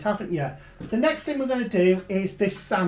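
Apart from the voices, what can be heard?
No everyday noises stand out.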